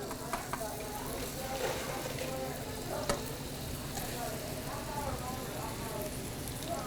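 Food sizzles and crackles in a very hot sauté pan, a steady moderate frying hiss with scattered pops and stirring sounds, while a person talks over it.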